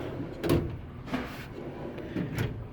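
Drawers on a Cobalt 41-inch tool chest and cabinet combo sliding open and shut, giving three or four soft, muffled rolling clunks spaced about a second apart at close range, with no talking.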